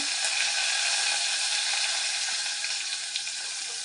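Curry leaves and onion fry in hot oil for pumpkin gojju, giving a loud, steady sizzle that runs unbroken from start to finish with no voices.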